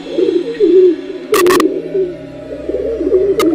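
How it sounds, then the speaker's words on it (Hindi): Repeated soft, low cooing of a pigeon inside a room, close and clear, with a couple of brief sharp clicks or knocks in between. "तो एक कबूतर कमरे के अंदर घूम रहा था।"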